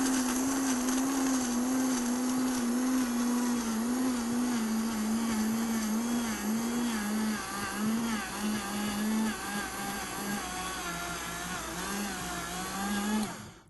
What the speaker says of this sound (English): This is the Vitamix. You have to snap those together to make sure that the lid won't come off. And I'm just going to like mill them together.